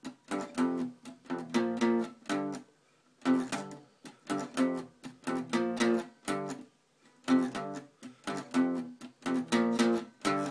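An electric guitar plays a riff, repeating the same short chugging phrase several times with brief pauses between passes, clear and close with no voices.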